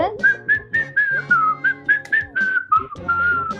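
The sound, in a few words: man whistling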